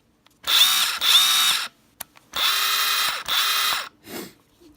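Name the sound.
Kobalt 24 volt 3/8 inch impact wrench running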